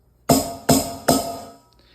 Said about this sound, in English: This drum right here is called the snare drum.